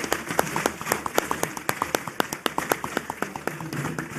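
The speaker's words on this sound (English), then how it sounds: "I was already going to say let us give him a round of applause, but the audience already took over from me" Conference audience at the Nigerian Bar Association annual general conference applauding after a presentation, crisp claps in a loose, steady rhythm, fairly near and lively.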